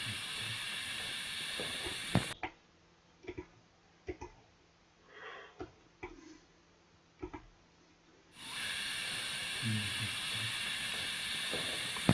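A water pipe leak heard through a listening device: a steady broadband hiss, which cuts to a muffled quiet stretch with soft thumps and rustles before the loud hiss returns.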